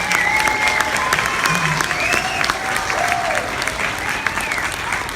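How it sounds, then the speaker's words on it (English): Audience applause at a children's concert, steady dense clapping that fills the whole stretch with some cheering voices mixed in, fairly loud and sustained. "Let's give them a big round of applause."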